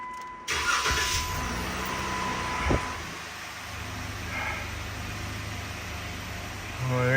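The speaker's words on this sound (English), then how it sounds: "So hopefully when I turn the key on and start it" A 2015 Jeep Wrangler engine cranks briefly and catches, then settles into a steady low idle, heard close up with a chime sounding near the end.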